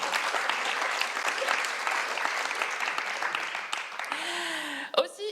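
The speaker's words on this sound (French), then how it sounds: "fais des applaudissements, applaudissez" An audience at a French comedy show applauds in a dense, steady burst of clapping that fades out near the end as a voice begins speaking over it.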